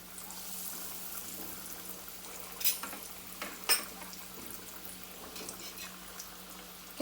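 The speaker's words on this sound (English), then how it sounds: "So it's now time to fry them." Fried milk dessert pieces (Spanish leche frita, eggless) fry in hot oil on a medium flame, giving a steady soft sizzle and bubbling with a few sharper pops and crackles.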